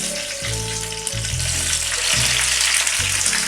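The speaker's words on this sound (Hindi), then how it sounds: "लो फ्लेम पे फ्राई करते हुए ये इजीली फ्राई हो जाएंगे।" Crushed green chillies fry slowly in oil over a low flame for a chilli garlic fry, making a loud, even crackling sizzle while a low tonal hum starts and stops in the background.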